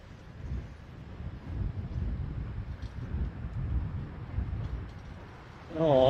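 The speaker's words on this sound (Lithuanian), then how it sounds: "O, vėjas geras." Strong wind hits a touring cyclist on the coastal EuroVelo route between Mazagón in Spain and Tavira in Portugal, a low buffeting rumble that swells and fades on the microphone, rising sharply at the end.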